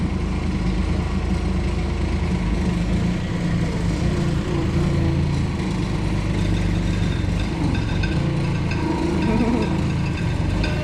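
A small skid steer loader runs steadily at close range, its engine droning continuously as it tears apart a hay bale, with no voices.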